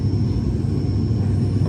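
Russian propeller airliner engines during a go-around, a loud steady droning rumble heard from inside the cabin, continuous and unbroken with no voices.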